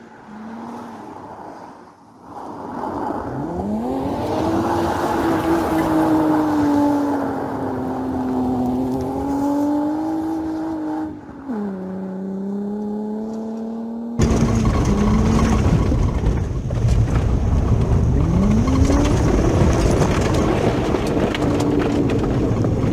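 A Volkswagen Passat B5's engine revs hard on a test drive, its pitch climbing, sagging and rising again in loud sweeps over road and wind noise, then cutting abruptly to a new take that revs again.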